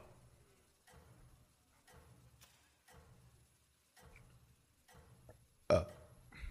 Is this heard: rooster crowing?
no